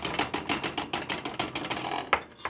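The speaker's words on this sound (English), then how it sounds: "You keep whisking it, and a whisk works the best" Rhythmic scraping clicks from whisking a thick vegan cheese mixture in a pot, a steady run of about a dozen quick strokes, close and clear with no talk, slowing near the end.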